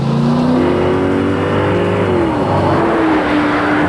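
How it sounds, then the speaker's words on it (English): A Lincoln Mark VIII luxury coupe's snarling 32-valve, 280-horsepower V8, shared with the Mustang Cobra, revs loudly and steadily, its pitch climbing then easing back in one continuous close-up roar with no voices. "these are riots in a straight line due to a snarling V8 shared with the Mustang Cobra"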